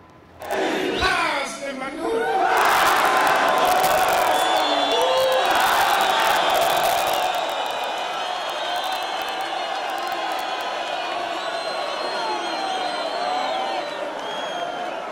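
A large crowd of supporters at a Zimbabwe rally roars and whoops in a loud, sustained swell of cheering and shouts that settles into a steady excited din.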